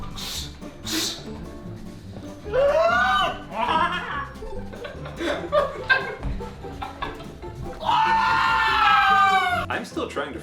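People use their voices to imitate raptor screams and snarls, trading loud, shrill screeching cries in two long bursts, with chuckles and rough growling sounds between them.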